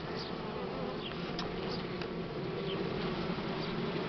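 Dense, steady buzzing of many Buckfast honey bees swarming close by at an open hive during a spring inspection, continuous throughout with no voices.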